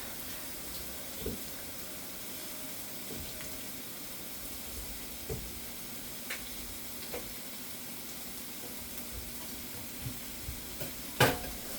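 Onions cook in a little oil in a pan with a low, steady sizzle and occasional soft stirring clicks, quiet and close throughout.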